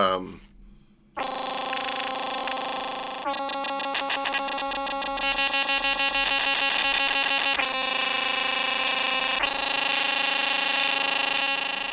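A distorted, noisy industrial synth patch on an OP-XY plays loud sustained dissonant chords with buzzing pulses and stuttering rhythmic texture, new chords entering every few seconds, with no voice.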